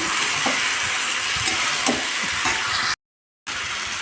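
Boiled jackfruit sizzles with spices in a hot pan, a steady frying hiss broken by a few soft knocks of stirring, close up, then a brief cut to silence before the sizzle returns.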